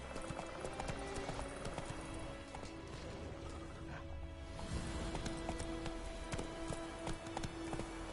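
Hooves drumming as the horse Roach gallops in The Witcher 3: Wild Hunt, a steady rapid clip-clop that runs the whole time over game ambience, with no talk.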